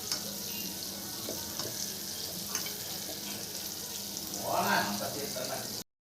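Salted butter melting in a pan gives a soft, steady sizzle at low level, close by, with a brief swell of hiss near the end before it cuts off.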